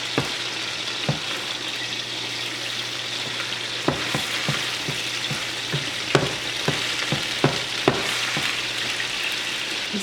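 Spinach with garlic powder and salt fries in a pan, a steady close sizzle broken by scattered clinks and scrapes of stirring.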